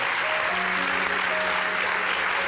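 Audience applause after an illusionist's magic trick, steady dense clapping filling the whole short stretch, with a faint sustained tone underneath.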